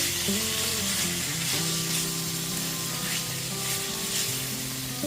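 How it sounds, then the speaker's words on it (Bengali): Potatoes and drumsticks that were fried earlier sizzle steadily in a hot pan as they are stirred, a constant frying hiss broken by soft scraping strokes, close and fairly loud. "ভেজে রাখা আলু আর সজনে ডাঁটা দিয়ে দেওয়ার পর 2 থেকে 3 মিনিট ধরে খুব ভালো মতো একটু মিশিয়ে নিয়েছি।"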